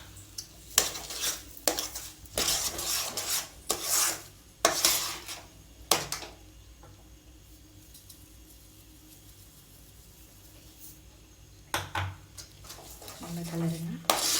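Bread halwa with sugar is stirred in a pan, making repeated metal scraping and clanking strokes over a faint sizzle, with a quiet pause in the middle before the stirring resumes.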